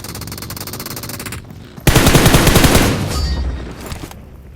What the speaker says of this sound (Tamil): கன் எடுத்து அடிச்சிடறான்